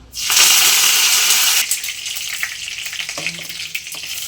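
Cumin seeds, black pepper and curry leaves hit hot oil on a low flame for mutton gravy, an immediate loud crackling sizzle that eases into a softer, spattering fry with faint clinks.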